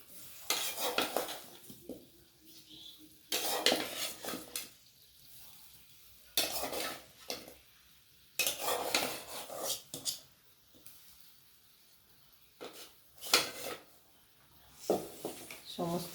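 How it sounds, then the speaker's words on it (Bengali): Papaya and potato pieces tip into a cooking pot with clatters and scrapes of a spoon stirring against metal, coming in short bursts separated by quieter gaps, with a faint background sizzle. "এবার আমি পেঁপে আলুগুলো এর মধ্যে দিয়ে দেবো।"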